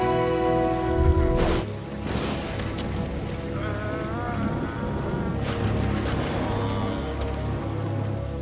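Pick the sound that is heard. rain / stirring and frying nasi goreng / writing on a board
rain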